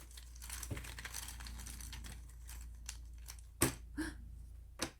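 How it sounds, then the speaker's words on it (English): Zooloretto board game cards being shuffled on a table, a steady papery riffling and crinkling with a few sharper snaps near the end, close and fairly quiet with no talking. "Give them a good shuffle."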